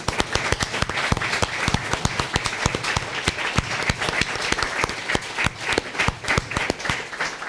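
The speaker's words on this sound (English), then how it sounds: "I ask the audience to give a round of applause to Julian in the booth" A theatre audience gives a round of applause, crisp and continuous clapping at a brisk rhythm, fairly close and loud, with no talk over it.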